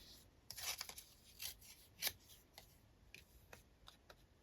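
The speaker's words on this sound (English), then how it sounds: "rip across like that." Paper torn by hand into strips for crafting clusters, a string of quiet close rips and rasps, a few longer tears and a louder snap near the middle, soft and intimate.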